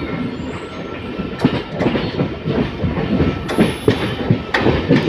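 A MEMU passenger train between Durgapur and Asansol rolls close by as it crosses from a loop line onto the main line, wheels clattering over the switch points in uneven clacks with a faint high squeal, loud and steady.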